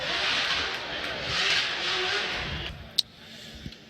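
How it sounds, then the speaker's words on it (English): A drift car at Formula Drift qualifying in Long Beach, 2018, heard as a sustained roar of engine and tyre skid at a distance, fading with a sharp crack near the end. "Look at the drift car."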